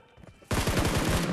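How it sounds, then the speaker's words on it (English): A fast burst of gunshots in a mobile shooter match erupts suddenly after a quiet moment and rattles on loud and close as a rapid automatic string. "अरे गोली क्यों चल रही है यार"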